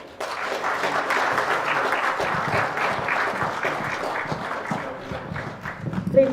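An audience applauds after a talk about girls' education, a dense, sustained wash of many hands clapping that holds steady and swells slightly at the close.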